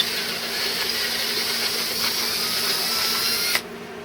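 A power drill with a 25/64 bit whirs steadily at close range for several seconds, reaming tuner holes in a guitar, then cuts off abruptly near the end.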